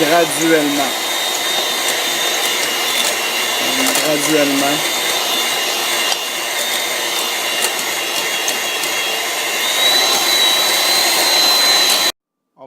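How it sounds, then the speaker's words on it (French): An electric hand mixer beats butter and sugar with a loud, continuous motor whine, close up and steady throughout, briefly under a spoken word, then cutting off abruptly at the end. "on va ajouter le sucre tout en battant à l'aide du batteur électrique"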